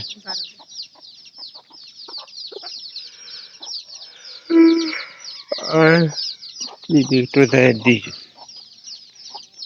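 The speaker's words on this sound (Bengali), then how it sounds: "এটা হলো কালা মুরগি।" A black hen with her chicks gives repeated close clucks and throaty calls, with faint high chick peeps running through the background.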